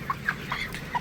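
Broiler chickens inside a poultry farm give a few soft, scattered clucks over a low background murmur, faint and brief with no talking.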